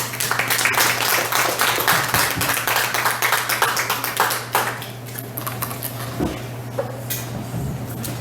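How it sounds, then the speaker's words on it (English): An audience at a Barrio Barista poetry reading, December 14 2016, claps steadily for several seconds. The dense applause is fairly close and tapers slightly toward the end. "So a round of applause for Lillian."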